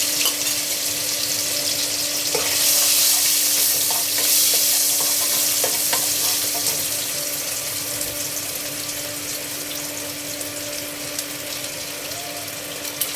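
Dried fish (shutki) and salt frying in a pan, a steady hiss and crackle of sizzling oil running throughout with a faint constant hum beneath and occasional soft stirring clinks.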